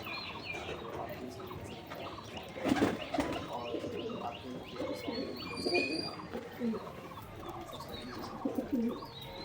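A pigeon coos softly with low, rolling calls repeated several times, mixed with faint chirps from other birds.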